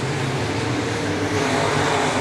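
Sport mod race cars circling the dirt oval at Clay County Speedway during a feature, a loud continuous engine roar from the passing pack, with no voices.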